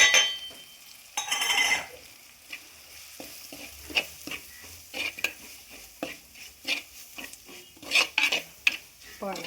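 Coriander and chili roast in a hot pan beside tomatoes, sending up bursts of sizzling crackle broken by repeated clinks and scrapes of a spoon against metal, close and fairly loud.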